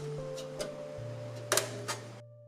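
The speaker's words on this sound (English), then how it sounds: "and it just clips into place" A metal IO shield for a PC case snaps into place, giving a few sharp clicks and ticks over a steady low hum, close and fairly quiet.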